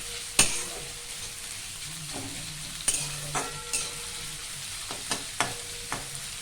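Onions fry in ghee with a soft steady sizzle, broken by several sharp scrapes and knocks of a spatula stirring against the pan, close and unaccompanied by speech.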